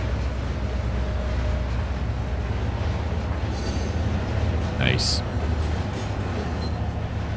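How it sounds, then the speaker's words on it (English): Diesel engine and rolling trucks of a train in the Trainz 2022 railroad simulator, a steady low rumble with rail noise throughout and a brief squeal midway, plus a single short spoken word. "The engine sounds and the truck sounds, everything is just beautiful right now."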